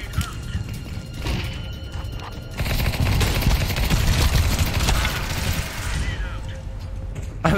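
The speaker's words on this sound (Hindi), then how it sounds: "स्नाइपर लेके नो स्कोप कर रहा था मैं।" Rapid bursts of gunfire from sniper rifle no-scope shots in an Among Us style video game, a loud dense barrage building after a quieter opening, with faint voices underneath.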